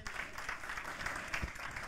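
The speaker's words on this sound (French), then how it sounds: "On peut les applaudir." A church congregation applauding during a baptism service, a brief, steady patter of clapping that is moderately loud and fills the short stretch without pause.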